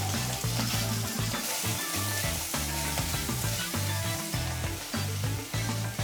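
Pork hitting two tablespoons of hot oil in a pot for Korean spicy soft tofu soup (soondubu jjigae), a steady, close, loud sizzle and crackle that runs throughout with no talking.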